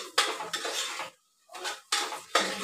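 Chicken pieces are sautéed in a pot at home, heard as bursts of metal ladle scraping and clanking against the pot, separated by a brief silent pause.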